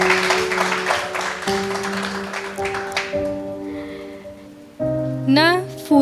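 Audience clapping at a Hindi poetry recital: a burst of applause that thins out over about three seconds, with voices and tonal background sound carrying through and a voice speaking afterward.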